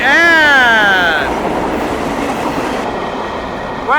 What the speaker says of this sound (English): Awesome, that was a pretty big freight train right there.